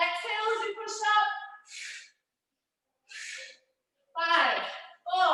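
Heavy, forceful exhales from someone working through push-ups, coming in short breathy bursts separated by pauses, with voiced strained breaths mixed in close to the mic.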